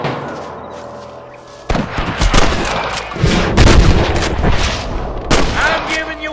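Rapid gunfire in a Red Dead Redemption shootout erupts after a quieter lead-in, with loud, repeated sharp cracks and booms that layer into a dense, echoing fusillade.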